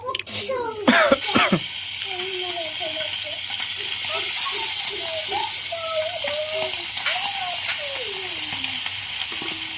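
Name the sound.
hilsa fish frying and spluttering in oil with onion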